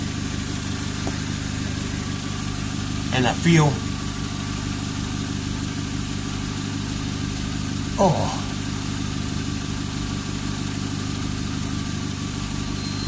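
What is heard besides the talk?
car engine idling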